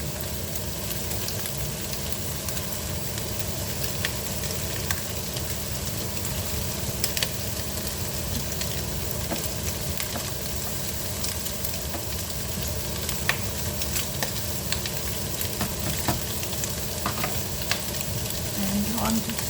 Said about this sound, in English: time to add back in the onion